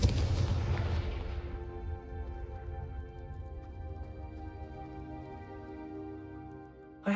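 A Confringo fire spell explodes in the video game Hogwarts Legacy, a loud booming blast that decays into a long ringing tail, followed by a sharp new impact at the very end.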